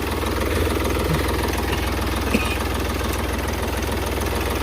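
A 2017 Hyundai Grand i10 Sports diesel engine idling, with a steady, even rumble and light rhythmic knock that continues unchanged throughout, close and moderately loud.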